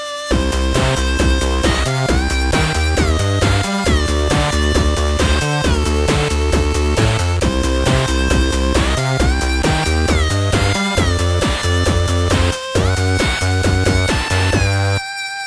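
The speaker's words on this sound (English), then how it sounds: "it's actually a three-channel synth that you can control with MIDI, and it enables you to create arcadey sounds like this" A YM2149 soundchip MIDI synth, the three-channel chip from the Atari ST, plays busy arcade-style chiptune music with bright square-wave melodies over a steady bass line, loud and continuous throughout.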